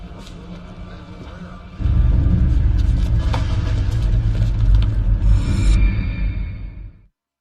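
Bus engine in the video game L.A. Noire, a low road rumble that swells suddenly and stays loud and close for several seconds before cutting off abruptly, with faint voices earlier.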